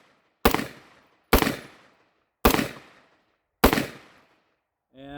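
A Wolf T91 rifle fires the rest of its magazine as four loud, sharp single shots spaced roughly a second apart, each followed by a short decaying echo, with a brief mechanical rattle at the very end.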